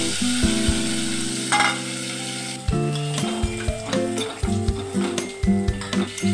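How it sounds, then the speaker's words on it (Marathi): Steady sizzling of onion paste frying in hot oil for pav bhaji, with a utensil scraping and clinking against the pan throughout, over a faint musical background. "तेल गरम असं झालेलं आहे, त्यामध्ये कांद्याची पेस्ट टाकून घेऊ"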